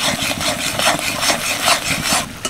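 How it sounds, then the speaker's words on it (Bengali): Spice paste with mustard and green chillies is stirred and scraped around a pan as it fries, giving close, continuous rhythmic scraping and sizzling with no talk. "এবার মশলাটাকে ভালো করে কষিয়ে নেব।"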